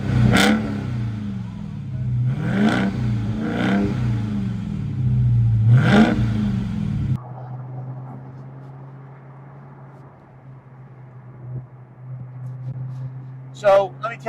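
A 2022 Dodge Charger Hellcat Redeye Widebody engine revs up several times in sharp, loud bursts, then settles into a steady low idle before brief blips return near the end.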